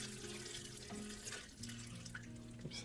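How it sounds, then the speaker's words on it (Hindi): Water runs steadily from a wash basin tap, a continuous close hiss and splatter into the sink that stays even throughout, very quiet overall. "बेसिंग को पानी चले"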